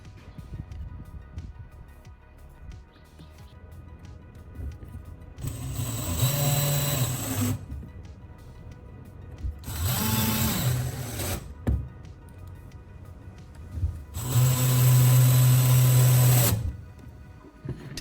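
Power drill driving screws to fasten a hinge down onto a wooden riser, three whirring bursts of a few seconds each over quiet room noise.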